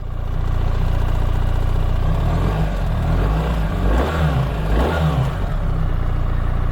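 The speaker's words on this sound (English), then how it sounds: "if you guys have ridden Beamers that have the boxer engine before, you know that when you start it, it kind of pulls you from both sides" A 2024 BMW R1300GS motorcycle's boxer engine runs loud and close, a deep steady idle rising into two sharp revs before settling back.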